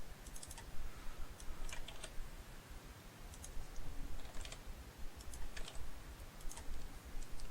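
Someone types on a computer keyboard in short bursts of quick clicking keystrokes separated by brief pauses, close and fairly quiet over a low background hum.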